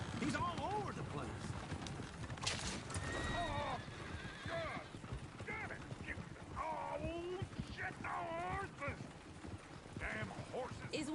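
Neighing horses and clopping hooves from the video game Red Dead Redemption 2, repeated whinnies over steady hoofbeats in a busy town scene, with voices talking throughout.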